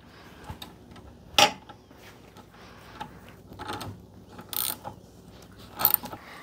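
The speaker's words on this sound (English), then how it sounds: "so we're gonna go ahead and tighten it." Tightening a terminal under the hood of a Ford Bronco produces scattered close clicks and ratcheting taps with short metallic clanks, irregular and separated by quiet gaps.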